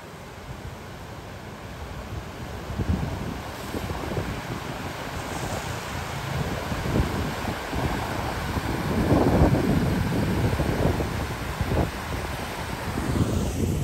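Strong typhoon wind roars continuously across an open shoreline area with houses, buffeting the microphone in a dense, rising and falling rush that swells near the middle; no one speaks.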